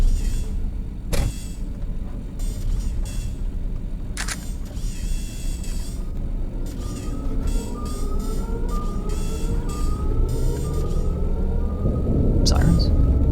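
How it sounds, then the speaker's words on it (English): Rising and falling siren tones wail in the distance beneath a steady engine rumble in the video game Steel Roamer, growing louder and denser toward the end, with a few sharp clicks. "Sirens?"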